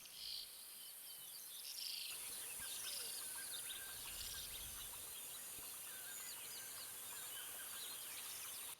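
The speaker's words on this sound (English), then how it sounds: "Obviously pretty much in the night we have the birds and the crickets, and then the swamp ambience." A night swamp ambience sample: dense cricket chirring and scattered bird calls layered over a soft, steady background hiss, faint and even throughout with no voices.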